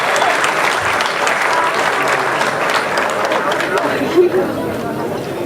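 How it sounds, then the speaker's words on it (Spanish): Crowd applause welcoming a speaker at a Pacto Histórico political regional dialogue in Santa Marta, Colombia, dense steady clapping mixed with chatter and murmuring voices throughout. "Vamos a recibirlo con cariño, con un fuerte aplauso."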